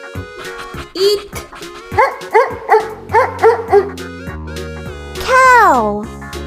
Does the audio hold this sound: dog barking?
yes